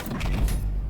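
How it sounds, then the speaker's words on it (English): Heavy doors in the ULTRAKILL video game sliding open with a loud, low rumbling whoosh lasting under a second, close and forceful, with no talking. "Those doors are loud."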